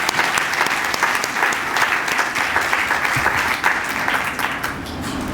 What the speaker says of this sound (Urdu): آئیے مل کر زور سے تالیاں بجائیں